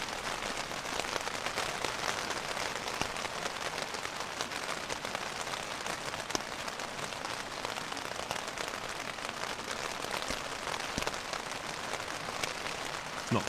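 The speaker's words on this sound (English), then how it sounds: "Well, so much for it stopping raining." Heavy rain drums steadily on a tent and tarp at a ridge-line campsite, a dense, continuous patter close overhead with occasional louder drips, no talk.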